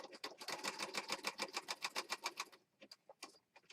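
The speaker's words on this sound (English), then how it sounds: "then bring it to your sewing machine" A sewing machine stitches a junk journal page in a fast, even burst of rapid mechanical clatter, then slows to a few scattered stitches before stopping; fairly quiet and close, with no talk.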